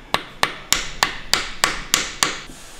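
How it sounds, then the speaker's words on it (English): Eight sharp metallic taps from a drift driving a supercharger part home on a Honda CB1000R, evenly spaced about a third of a second apart and close by, each with a short ringing decay and no voices. "Then with an appropriate drift, you can tap it home."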